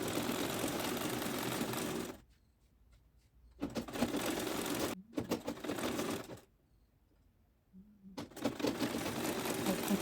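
A sewing machine stitches folded fabric plates for an autogele headtie base in three loud, steady whirring runs separated by near-silent pauses.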